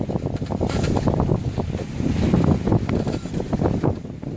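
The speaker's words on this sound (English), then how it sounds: "The wind has died off a little, and I've got my motor on." A small sailboat's motor running while cruising at sea, a steady low rumbling drone blended with wind buffeting the microphone and water wash, close and continuous without talk.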